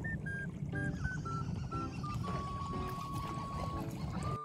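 A non-motorized boat moves through flood water in a flooded barangay neighborhood, with steady splashing and sloshing of water, plus tonal whistle-like sounds in the background.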